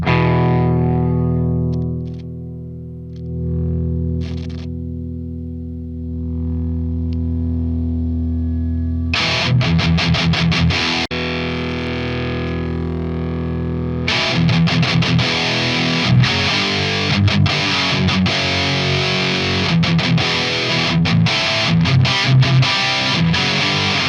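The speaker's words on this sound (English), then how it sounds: "crank the gain all the way up, and obviously boost it, and you can get a decent classic rock tone out of it" An electric guitar played through an EVH EL34 amp with the gain cranked all the way up and boosted, giving a classic rock tone: sustained distorted chords ring out and fade, then a driving, heavily overdriven rhythm riff plays loudly for the rest.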